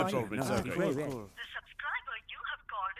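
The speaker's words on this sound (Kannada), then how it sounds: "ಅಪ್ಪ ಅವ್ನ್ ಫೋನ್ ಕಟ್ ಮಾಡ್ತಿದ್ದಾನೆ." A voice speaks briefly, then a series of short electronic telephone tones pulses repeatedly, like a call dropping.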